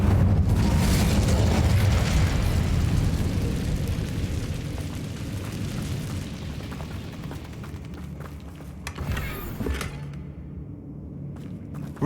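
Incendio fire spell cast in Hogwarts Legacy, a loud sustained burst of roaring flame and rumbling impact that fills the clip, fading slightly, with a brief flare near the end.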